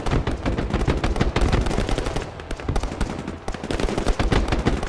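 Battlefield machine gun and G36 rifle fire in Broken Arrow, sustained rapid automatic bursts overlapping, loud and close, with steady rhythmic shots and no talking.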